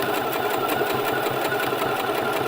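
A sewing machine stitches T-shirt fabric in a steady, fast, even rhythm of needle strokes, loud and close throughout with no voices.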